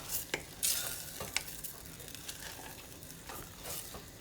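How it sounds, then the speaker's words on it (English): Mashed potato being stirred into cream in a pan, giving soft wet scraping and squelching strokes at an irregular pace, fairly quiet and close with no voices. "What you're doing is just mixing it in,"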